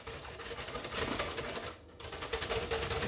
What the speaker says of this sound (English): You want to whisk that in,